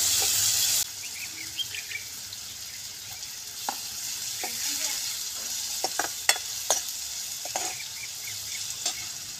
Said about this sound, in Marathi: कांदा टाकूया, मिरची भाजली आपली आता.